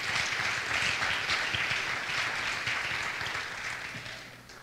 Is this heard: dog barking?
no